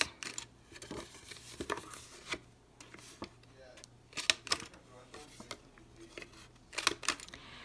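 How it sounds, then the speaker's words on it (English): A series of sharp snipping clicks from a We Are Memory Keepers Crocodile Corner Chomper punch rounding card paper corners on its 1/2 inch side, irregularly spaced with soft paper handling between, fairly quiet and close. "Now I'm going to take my We Are Memory Keepers Crocodile Corner Chomper."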